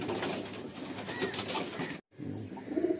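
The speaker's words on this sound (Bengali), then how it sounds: "দেখুন এটা ফিমেল পায়রা" A female Madrasi pigeon coos softly in short murmuring phrases amid steady background noise, with a brief silent break partway before the cooing resumes near the end.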